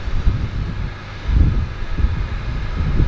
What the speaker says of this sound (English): Starboard side engine is alight.